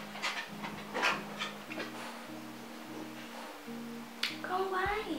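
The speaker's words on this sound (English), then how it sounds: "I'm dog sitting right now and I have 3 dogs in my house" Three dogs move around a house, with panting and a few whimpers over a steady low hum and scattered close thumps and scuffs.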